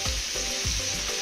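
Food frying in a pan for a Kerala pothichoru meal, with a steady sizzle and rhythmic scrapes as it is stirred and turned, close and fairly quiet.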